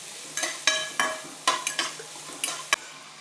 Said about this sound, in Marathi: त्यानंतर लसणाचा ठेचा तेलात चांगला परतून घेऊ